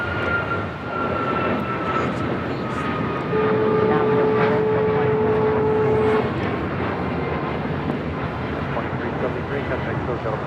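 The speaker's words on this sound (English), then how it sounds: "Next departure here on the south side is United Airlines Flight 2373 heading to Kona. It's a 737 MAX 9." A United Airlines Boeing 737 MAX 9 departing LAX produces a steady, loud engine roar with a sustained whine, heard from a distance at the airfield, while a voice talks over it.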